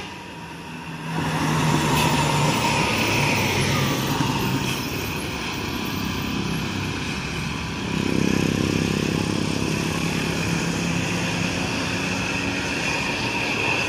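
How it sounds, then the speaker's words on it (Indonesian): Diesel engine and exhaust of a Jetbus 3 Borneo tour bus, a steady loud rumble with a swell in revs midway, heard outdoors with other traffic noise and no talking. "Nih, dengarkan baik-baik lur ya, suara knalpotnya"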